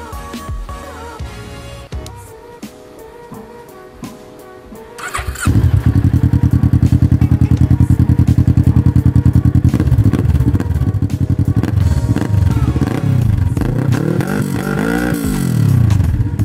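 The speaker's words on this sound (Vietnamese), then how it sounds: "ngay bây giờ tôi sẽ để chiếc xe này lên để cho chúng ta nghe cái tiếng máy và tiếng bô sau khi độ" A Kawasaki Z650 parallel-twin motorcycle with an aftermarket exhaust clatters briefly, then fires up loudly. It settles into a throbbing, pulsing idle up close before several rising and falling revs near the end.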